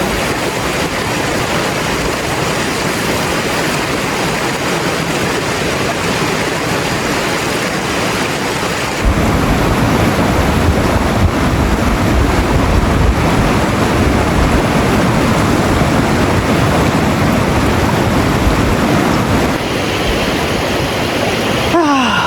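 Steady wind gusts at a backpacking campsite in the Great Smoky Mountains, a continuous broadband roar that swells louder about halfway through and stays loud, with no voices.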